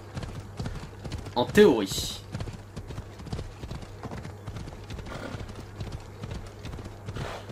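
Horse hooves clip-clopping steadily in the video game Assassin's Creed Odyssey across mountain terrain, a regular rhythm of hoof beats running under someone talking in French.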